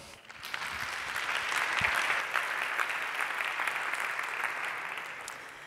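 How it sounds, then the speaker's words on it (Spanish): Sustained applause from a conference audience at a T3chFest tech talk, a dense wash of clapping that swells, holds steady and stays fairly distant throughout. "Un aplauso."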